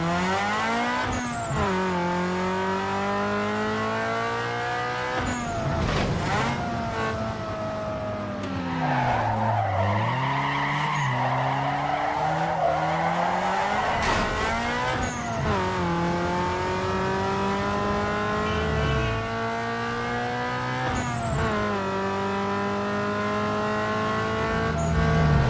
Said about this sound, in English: You gonna rev it all night? Or you gonna let the clutch out anytime soon?